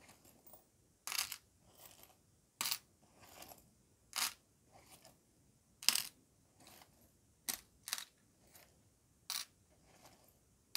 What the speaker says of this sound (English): I'm just taking out these charms.